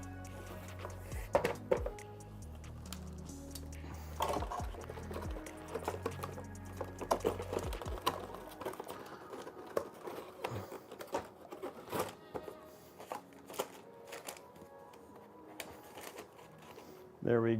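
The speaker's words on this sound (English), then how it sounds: "let's put our screws in for this" Screws are driven into a Silverstone FLP02 PC case, with small irregular metallic clicks and ticks of a screwdriver working, fairly quiet and close, while a person talks intermittently throughout.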